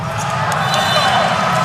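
A stadium crowd roars and cheers steadily at a Hawaii men's volleyball match in an NCAA championship, a dense, loud, sustained wall of noise with no break.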